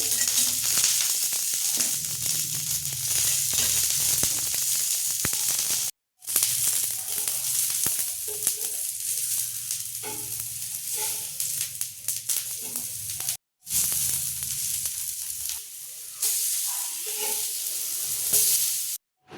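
Capsicum cutlets fry in oil in a covered pan, giving a loud, steady sizzle and hiss close up, broken by two brief silences and light scraping, with no talking.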